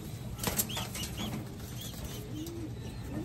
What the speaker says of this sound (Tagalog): Mailap ang kanyang mga ibon.